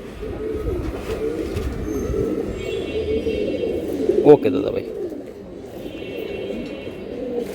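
Cooing from Bengali fancy pigeons such as Giribaz and Gorra kept for sale, a low, continuous burbling in the background while someone speaks briefly and a sharp knock sounds midway.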